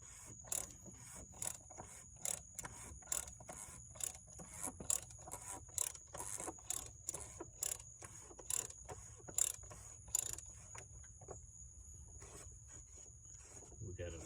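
A 27mm socket on a ratchet loosens a snug oil filter cap nut, giving a long run of quick clicking ratchet strokes in irregular bursts that stop near the end, heard close and fairly faint.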